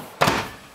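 A pot and pan drawer under the oven of a 2018 Venture SportTrek 312VRK travel trailer shuts with a single close, solid thunk that fades quickly, with no talking.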